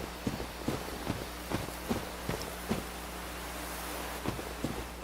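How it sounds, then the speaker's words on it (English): Footsteps in a forest in Dark Souls, a steady series of soft, fairly distant thuds spaced about half a second apart over a low, constant ambient drone. "I hear footsteps."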